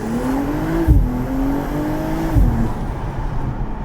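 A 2022 BMW G42 M240i fitted with an Eventuri intake accelerates hard, the engine note rising steadily through two quick gear shifts, loud and close with a strong induction roar.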